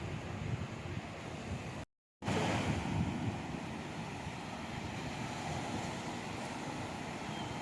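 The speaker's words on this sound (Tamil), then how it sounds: "அந்த அலை இங்கே வரைக்கும் வந்தால் நல்லா இருக்கும்ல" Ocean waves surge and wash onto a beach at night, with a steady, loud roar and wind buffeting the microphone, broken by a brief dropout about two seconds in.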